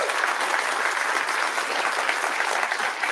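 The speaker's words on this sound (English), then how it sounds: "Please give him a round of applause." An audience gives a steady, full round of applause, dense and continuous from start to finish with no voices standing out.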